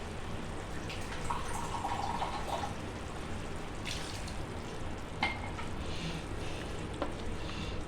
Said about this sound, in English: let's pop in the potatoes and some water